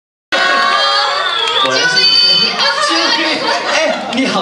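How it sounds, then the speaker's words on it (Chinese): A crowd at an AKB48 Team TP release event cheers, shouts and applauds to welcome guest Cai Huangru, known as Douhua Mei. The loud, dense mix of cheering voices and shrieks runs continuously with no pause. "让我们掌声欢迎蔡黄。"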